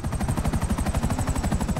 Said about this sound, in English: Oh, it's like special treatment, VIP helicopter.